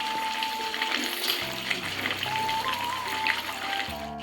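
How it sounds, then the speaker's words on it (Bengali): Meat fries in oil in a pan, giving a steady, close sizzle with occasional stirring scrapes throughout. "এই যে মাংসটা ভালো মতো কষিয়ে নিচ্ছি, দেখো কতটা তেল ছেড়ে দিচ্ছে।"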